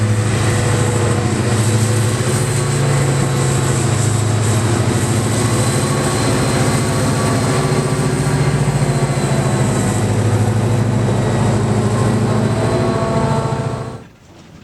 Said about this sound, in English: we see the same SD40-2 from earlier, working a different yard movement